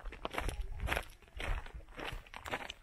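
Footsteps crunch down a path into a volcanic crater in Lanzarote's Timanfaya National Park, a steady rhythm of gritty, scuffing steps on loose ground, fairly close and quiet with no talk.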